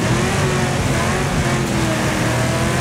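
Car engine in the racing game Wreckfest on a snowy track, a steady sustained engine drone with light throttle, loud and continuous with no talk over it.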